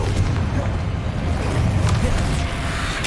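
A Confringo spell in Hogwarts Legacy bursts with a heavy, rumbling explosion, a loud continuous boom and blast texture lasting several seconds.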